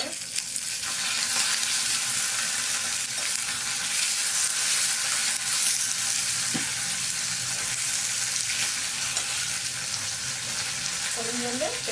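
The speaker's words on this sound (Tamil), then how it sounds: "பாருங்க, கொஞ்சம் கருவேப்பிலை போடுறேன்." Curry leaves dropped into hot oil for Karnataka-style bisibela bath, a steady, dense crackling sizzle throughout with occasional stirring clinks, close and continuous.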